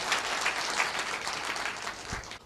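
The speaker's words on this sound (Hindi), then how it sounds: "एक जोरदार ताली पहले सबसे पहले आप सभी के लिए" A crowd in an audience gives a hearty round of applause, dense and close, sustained for a couple of seconds before fading out.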